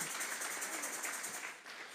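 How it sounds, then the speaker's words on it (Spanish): A church congregation applauds during a Spanish-language sermon service, a steady dense wash of clapping from many hands that stays even and moderately distant for two seconds before thinning slightly. "Le vamos a dar un fuerte aplauso al Señor esta tarde."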